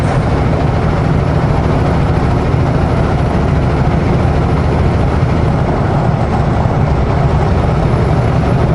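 A vehicle drives down the road early in the morning, heard from inside as a loud, steady low engine drone and road rumble that holds evenly throughout, with no voices.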